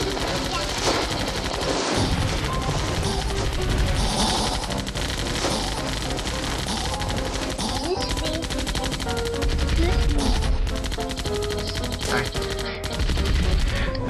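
Dense, rapid gunfire and scattered shots from the co-op video game Zombie Panic in Wonderland, loud and nearly continuous, mixed with game effects and occasional voices.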